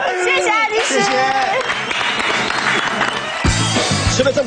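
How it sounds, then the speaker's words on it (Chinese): A studio audience on a cooking show breaks into applause, a dense burst of clapping that rises and carries on under loud overlapping voices and laughter from the hosts. "好，拍拍手。"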